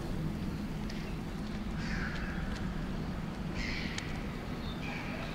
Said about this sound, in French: dans le village, on entend un vol d'oiseaux.